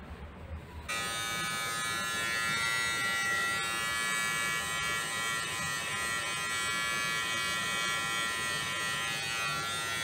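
Electric hair clipper buzzing steadily and close up while cutting hair in a barbershop during a haircut lesson, a continuous motor whine starting after a brief moment of background noise and running unbroken to the end.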